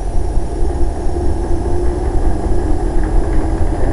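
Magnetic impulse torque converter running on a bench test, giving a loud, close, steady low rumbling hum with a fine pulsing texture and no pauses.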